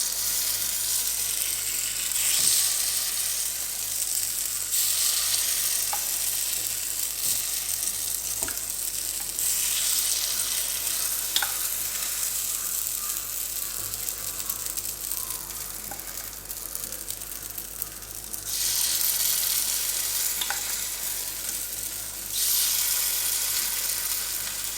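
Leftover dosa batter hits a hot oiled pan and sizzles steadily, a close, bright hiss with brief louder bursts and faint scraping, no talking.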